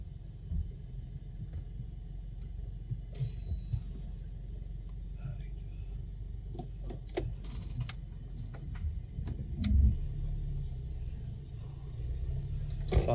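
A car drives through a French village, a steady low engine and road rumble heard from inside, with scattered clicks and rattles and faint voices in the background.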